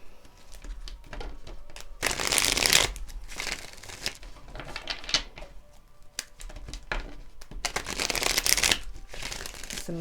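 Tarot cards being shuffled by hand, a crisp riffling flutter in several bursts with brief pauses between, close and fairly quiet, no talking.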